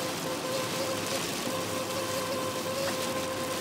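Hail falls on a camper, a steady, dense patter on the roof and windows heard from inside, with a faint thin tone running through it and no talk.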